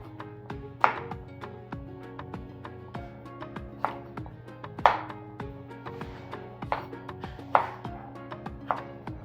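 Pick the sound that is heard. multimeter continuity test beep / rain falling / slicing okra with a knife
slicing okra with a knife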